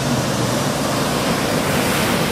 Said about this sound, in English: I swear the waves were bigger just a second ago